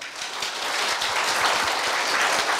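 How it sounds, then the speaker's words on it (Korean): Steady, dense applause from the audience at a Korea University staff retirement ceremony, filling the whole stretch at an even level without any speech. "총장님한테 한번 박수 한 번 부탁드리겠습니다"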